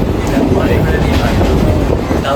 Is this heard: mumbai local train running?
yes